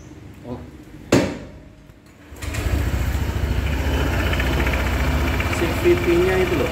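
A 2023 Honda PCX 160 CBS scooter is started with a sharp click and its engine then settles into a steady, rough-sounding idle, close and continuous, with nobody speaking over it.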